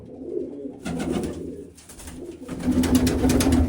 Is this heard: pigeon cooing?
yes